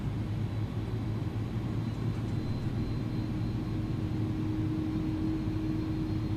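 Airbus A300 jet engines in the X-Plane 11 flight simulator hold a steady low drone with a faint rising whine, continuous and moderately loud, with no talking.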